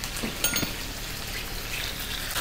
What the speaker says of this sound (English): You have to add ginger and garlic paste.